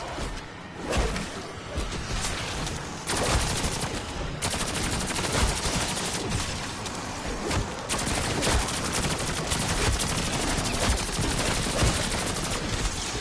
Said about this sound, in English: This nail gun is crazy.